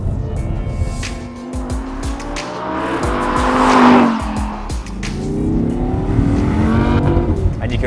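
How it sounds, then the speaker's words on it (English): An Audi R8 Spyder's V10 engine roars loudly and close up as the convertible drives with its roof down, the note rising and falling steadily with a brief squeal partway through. "you can really hear the V10 with the roof down"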